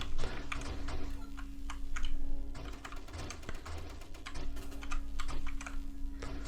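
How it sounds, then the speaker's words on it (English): Computer keyboard keys and a mouse clatter in quick irregular bursts of clicks and taps, close and distinct, while someone plays the space shooter game Nova Drift. "Let's try keyboard and mouse here."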